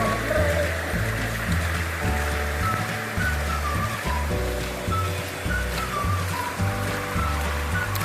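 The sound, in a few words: flowing water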